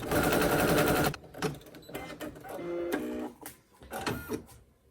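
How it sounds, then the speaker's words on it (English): An embroidery machine stitching the letters S and B on an in-the-hoop needle minder, a loud dense mechanical whir at first, then shorter start-stop bursts of stitching and whirring. "it's going to sew the S and the B on the embroidery side"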